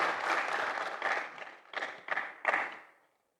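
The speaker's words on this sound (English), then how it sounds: "A round of applause for him." Applause from an audience at an opening-remarks and fellowship awards ceremony, a moderate burst of clapping that thins into a few fading waves of scattered claps before stopping.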